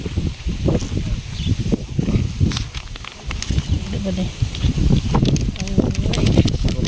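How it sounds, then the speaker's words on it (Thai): Strong wind buffets the microphone with a constant low, rough rumble and gusty roar throughout, while a voice speaks underneath. "เสียงลมดังมาก"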